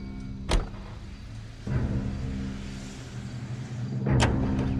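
A car door thuds shut in the L.A. Noire video game, followed by a low idling engine hum, another door slam and a rising engine rumble, all without talk.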